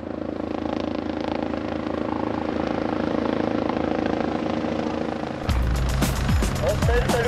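A helicopter's engine and rotor drone loudly and steadily, then the sound shifts and intensifies as rhythmic rotor thumping and whooshing take over near the end as it takes off during a river rescue exercise.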